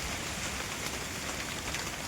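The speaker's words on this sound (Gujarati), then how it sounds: "વરસાદે એનું કામ શરૂ કરી દીધું જો" Steady rain falling at an outdoor field work site near a tower, a constant soft hiss of drops with no distinct events, faint and even throughout.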